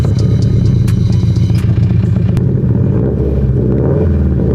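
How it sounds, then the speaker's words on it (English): Loud, continuous engine rumble with a lumpy, uneven burble from a modified car fitted with an unequal length exhaust manifold and a Desed Motorsports exhaust, sounding like a typical Subaru boxer, with a few sharp clatters over the steady drone. "it has an unequal length manifold, so it sounds like a typical Subaru"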